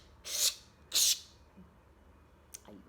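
A voice makes two loud, hissing scrubbing bursts in imitation of noisy tooth brushing, followed by a brief faint sound and quiet.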